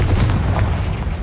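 A Confringo fire spell explodes in the video game Hogwarts Legacy: a loud, deep booming rumble that fills the whole short moment, with no pause in between.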